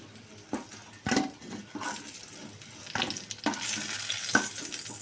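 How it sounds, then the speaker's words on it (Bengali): Pointed gourd pieces fry in oil and are turned over, giving a quiet, uneven sizzle punctuated by short bursts and light clinks. "পটলগুলোকে এপিট ওপিট করে ভালো করে ভেজে নেব।"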